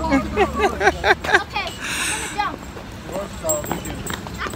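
Hooves clip-clop from a horse at the Mission Inn Festival of Lights in Riverside, a quick string of sharp, close strikes that fades to scattered steps, with people talking throughout.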